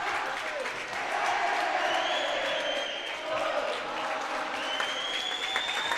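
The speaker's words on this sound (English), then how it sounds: "And you hear the chant from the Pavilion crowd as Lindsay Lau celebrates with her teammates" Girls' basketball crowd at a sectional final, with Pavilion fans chanting and cheering. The roar is loud and steady and fills the gym without a break for the whole stretch.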